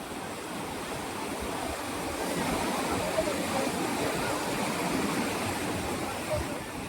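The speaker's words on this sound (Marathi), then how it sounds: "हा धबधबा 100 मीटर उंचीवरून कोसळताना तुम्ही पाहत असतात" Nura (Jang) Falls drops about 100 metres, making a steady, broad roar of falling water that holds at an even level throughout, with no breaks or other sounds standing out.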